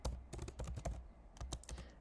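Rapid keystrokes on a computer keyboard while entering a prompt into a Google Sheets cell, a dense run of close, crisp clicks with short pauses and no talking.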